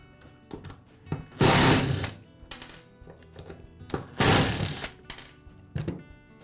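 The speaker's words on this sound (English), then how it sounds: "Now remove the 2 screws that hold the cord clamp in place." Screws are backed out of the cord clamp on a DeWALT angle grinder during a power cord repair, heard as close, repeated bursts of whirring power-driver noise between short clicks and clatter, with no talk.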